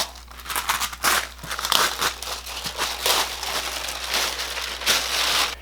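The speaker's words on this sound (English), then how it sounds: "let's see how hard this will be to pull off the wax paper" Wax paper peeled slowly off the back of a glued jigsaw puzzle, giving a continuous close crinkling and crackling with small tearing bursts and no talking.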